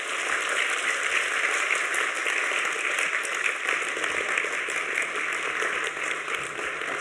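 A Korean church congregation at an ordination service gives big, steady applause, a dense continuous roar of clapping lasting several seconds with little talk.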